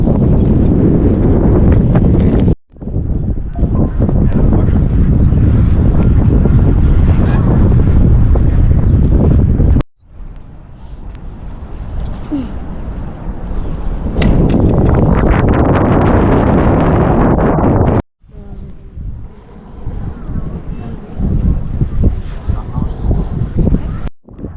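Strong gusting wind buffets the microphone on a bridge at the Dreiländereck tripoint where Germany, France and Switzerland meet, a loud rumbling roar broken by a few sudden cutoffs.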